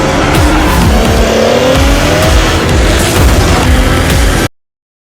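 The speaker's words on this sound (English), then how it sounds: "Toyota Supra." Toyota Supra sports car revving hard, with a loud, harsh engine roar, tire squeal and sharp popping bursts that cut off abruptly near the end.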